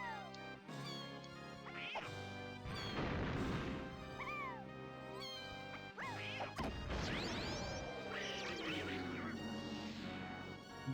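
A boss in Donkey Kong 64 gives off squawky Donald Duck–style quacks, mixed with loud crashes and whacks from the game over a busy music bed; several quack bursts come and go across the stretch.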